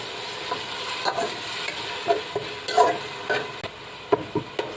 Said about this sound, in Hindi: तो थोड़ी सी देर के लिए 1 मिनट के लिए तकरीबन भूनेंगे।